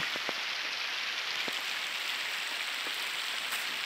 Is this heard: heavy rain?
yes